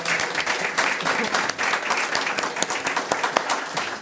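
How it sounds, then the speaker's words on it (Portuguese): An audience at a philosophy festival talk applauds its guests with dense, steady clapping that holds at an even level for the whole stretch. "Umas palmas às nossas convidadas"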